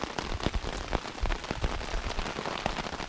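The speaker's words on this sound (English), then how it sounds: "It's getting dark out, as you can see, and it is still raining." Rain patters steadily on surfaces at a campsite in Algonquin Park after dark, a dense, close, continuous drumming of drops with no voices.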